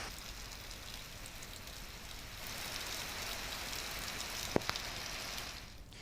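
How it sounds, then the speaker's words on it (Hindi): Steady rain falls onto streets in Haridwar, Uttarakhand, a continuous broadband hiss that holds an even level throughout with a couple of brief sharp ticks near the end, and no voices. "बारिश के पानी के सड़कों में बहने के चलते लोगों को भारी परेशानी अब झेलनी पड़ रही है।"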